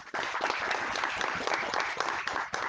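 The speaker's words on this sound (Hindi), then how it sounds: "जोरदार तालियां" Steady, dense clapping from a seated audience at a Hindi language conference session, sustained and fairly distant, with no voices over it.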